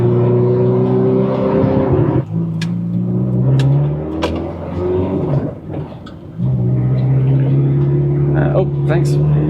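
Ferrari F430 engine droning while driving, rising and falling revs with abrupt drops and blips marking downshifts, loud and close from inside the car.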